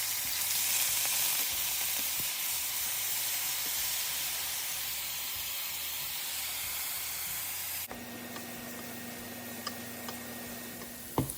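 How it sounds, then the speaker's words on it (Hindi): Chopped onions fry in hot oil with a steady, loud broadband sizzle and crackle, and the tone thins out near the end as a faint hum comes in. "जैसे ही तेल गर्म होगा तो मैं प्याज उसमें डाल दूँगी और थोड़ा सा उसको ट्रांसपेरेंट सा कर लूँगी।"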